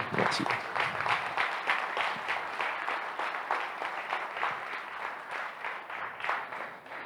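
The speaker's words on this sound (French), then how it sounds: "on peut l'applaudir" Sustained applause from an audience in a hall during a municipal election meeting, steady dense clapping throughout without pause.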